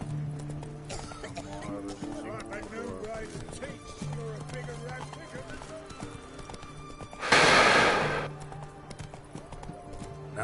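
Geralt's horse Roach in The Witcher game, its hooves clip-clopping in a loose rhythm under game dialogue, with a loud burst of rushing noise partway through.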